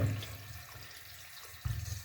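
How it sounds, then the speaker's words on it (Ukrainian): Water runs steadily from a shower head fitted with a temperature sensor, a soft continuous hiss and splash that swells slightly near the end, with no talking. "вода тече"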